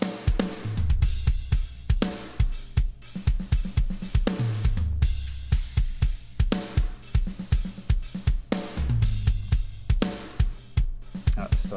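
Raw drum bus from a prog metal mix played back with no processing: punchy kick drums in fast double-kick runs, sharp snare hits and a steady wash of cymbals with room sound, loud and dense throughout, no voices.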